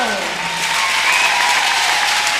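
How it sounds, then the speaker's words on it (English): An audience applauds at a team introduction before an Italy versus Switzerland game, a loud, dense, sustained clapping from a large crowd over a fading voice on a public address system. "Also an applause for the three."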